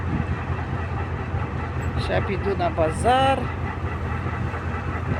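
A train passes along a railway with a steady low rumble and clatter throughout, while a person speaks briefly over it.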